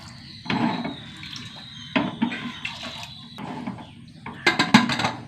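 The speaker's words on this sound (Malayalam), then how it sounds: "വെള്ളം ഒഴിച്ച് കൊടുക്കാം കേട്ടോ." Water poured from a tap into a cooking pot holding half a kilo of elephant foot yam with turmeric and salt, several splashing bursts of running water with short pauses between, close and fairly loud.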